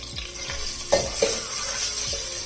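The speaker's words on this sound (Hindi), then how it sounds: "लहसुन अदरक को फ्राई होते भी तकरीबन 2 मिनट हो गए।" Garlic and ginger fry with a steady sizzle in a pan, with a few utensil scrapes and stirring knocks, continuous and close.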